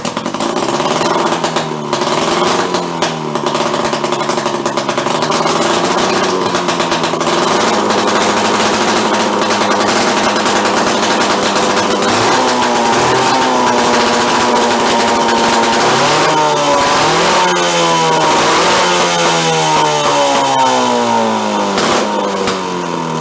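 A revived Rockwell engine that appears to be running rich runs and revs loudly and continuously, with pitch rising and falling through repeated throttle sweeps, growing busier toward the end.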